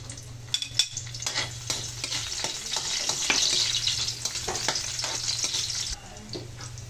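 Garlic sizzles and fries in a hot pan while a utensil stirs and scrapes, a steady close crackle with clicks and scuffs, a mussel dish being started, and no talk.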